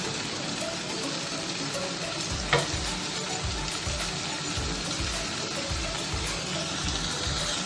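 Goat innards with spices stirred in a pot for papaitan, sizzling steadily with a rhythmic scraping of the spoon around the pot in repeated strokes, plus one brief clink partway through.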